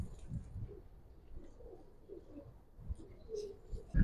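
Pigeons cooing in a cage at a market, soft low murmuring coos repeating irregularly, faint and close, with a brief rustle at the end.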